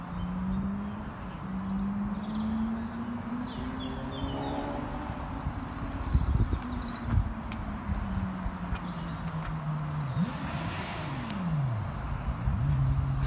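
Steady road traffic rumbles in the distance, with cars swelling and fading as they pass, a faint engine drone and occasional higher whines.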